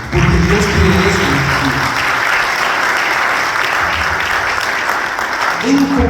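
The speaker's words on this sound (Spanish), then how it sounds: "Dale un aplauso al Señor" A church congregation applauds with loud, sustained clapping that fills the space evenly for several seconds, with a voice speaking under it at the start and end.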